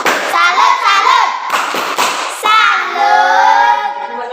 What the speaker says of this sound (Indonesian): dengan demikian tepuk salut